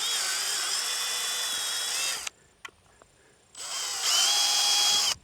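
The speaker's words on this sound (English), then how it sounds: "I'm drilling a 1/4 inch hole through the insulator" A power drill whines loudly and steadily boring a 1/4 inch hole through a plastic electric fence insulator, stops briefly with a few clicks, then spins up again at high pitch.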